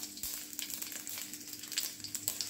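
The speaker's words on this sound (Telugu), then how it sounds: "నూనె వేడి అయిన తర్వాత ఇక్కడ కొంచెం సాసు వేసుకున్నాను. కొన్ని గార్లిక్ వేసుకున్నా" Sauce and garlic sizzling in hot oil, a soft continuous crackling hiss with small popping spits, faint and close with no talking.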